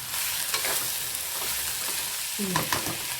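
Onions sautéing in a pan for a dry fish curry (karuvadu thokku), giving a steady sizzle with soft stirring scrapes and a few louder utensil knocks near the end, heard alone with no talk.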